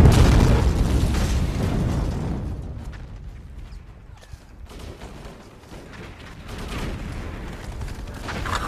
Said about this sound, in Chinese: 刚开始就被他们炸弹给追踪上了